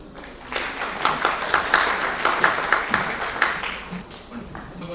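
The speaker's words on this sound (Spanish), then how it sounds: "Damos un fuerte aplauso" Audience applause at a medical obstetrics lecture, a burst of clapping from a crowd that builds and continues for several seconds at moderate loudness.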